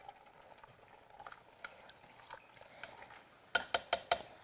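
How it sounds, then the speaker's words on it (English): A spoon stirs tortellini and spinach soup in a pot: soft scraping and quiet clinks through the first seconds, then four quick, distinct metallic taps against the rim near the end, close and fairly quiet. "So I'm just going to give it a quick stir."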